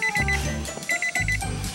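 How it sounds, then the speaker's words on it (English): A Nissan car horn beeps in short, high electronic chirps like a digital watch alarm, two quick bursts of repeated beeps with a brief gap, fairly loud over a low rumbling background. "You got this great feature horn that sounds like a freaking watch alarm."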